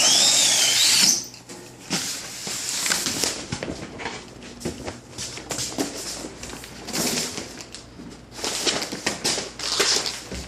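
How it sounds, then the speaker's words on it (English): A cutter slicing through sign material in a sign shop, a rough, grinding cut that runs steadily for several seconds after a brief loud hiss at the start, close and fairly loud. "we'll cut it with the old cutter"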